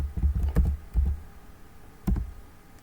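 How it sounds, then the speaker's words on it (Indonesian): A few scattered keystrokes on a computer keyboard while entering text into a library management program, soft and close, with quiet pauses between short bursts of clicks. "jika kita mengetik Laskar Pelangi"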